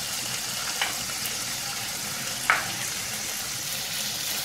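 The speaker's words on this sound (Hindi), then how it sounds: "अब इन सभी चीज़ों को हम मसालों के साथ भून लेंगे।" Tomatoes, ginger and cashews frying with spices in a pan, a steady close sizzling hiss with a couple of faint clicks from stirring, no talk.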